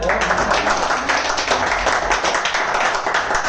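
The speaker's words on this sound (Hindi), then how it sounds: "हाँ बोलो, थोड़ा ताली बजाओ।" An audience claps at a motivational sales talk, a steady, dense patter of many hands filling the space with no pauses, loud and close throughout.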